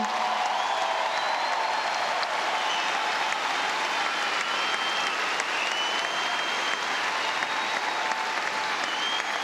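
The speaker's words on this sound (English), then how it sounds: "she deserves an incredible round of applause" Crowd applause in a tennis stadium after the Australian Open women's final, loud and dense, a continuous roar of clapping with some cheering mixed in, holding steady throughout.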